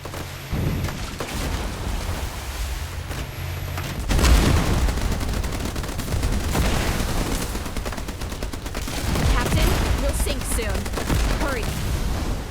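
Enemy gunfire rattling at a boat in Age of Water open-world naval combat, bursts of rapid shots mixed with heavy booms and impacts, loud and continuous with short pauses between volleys.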